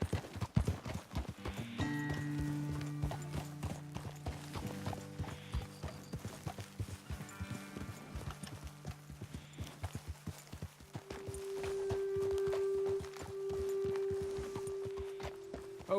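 Hooves clop steadily at a walking pace in Red Dead Redemption 2, with a few horses moving together over game background music and a sustained tone.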